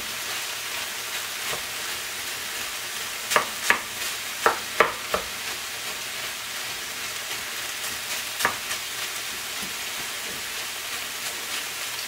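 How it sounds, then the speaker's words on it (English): Cooked rice frying in a hot pan on a turned-up burner gives a steady, close sizzle throughout, with several sharp pops and scraping stirs in the middle stretch. "You wanna hear it sizzling."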